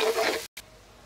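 Sliced onion frying in hot oil makes a steady, close hissing sizzle that breaks off briefly, then returns much quieter. No one talks.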